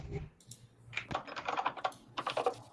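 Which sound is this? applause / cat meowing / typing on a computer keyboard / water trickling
typing on a computer keyboard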